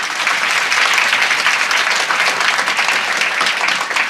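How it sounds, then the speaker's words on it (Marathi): Audience at a bhajan clapping hands loudly together, a dense, sustained burst of applause from a large crowd, close and full throughout the short stretch. "सगळ्यांनी एकदा जोरात टाळी वाजवा."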